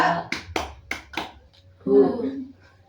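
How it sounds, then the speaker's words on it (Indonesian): Sharp hand claps in a counted clapping game during a group counseling session, a few separate claps close together up front, then a voice speaking. "tepuk 1, 2, 3"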